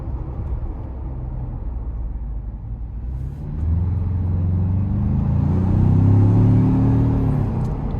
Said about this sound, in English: I love the engine sound, love the exhaust.